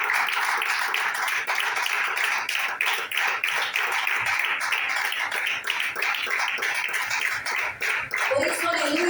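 A church congregation claps hands together in a fast, steady rhythm, a dense crowd of clapping sustained throughout with voices faintly mixed in.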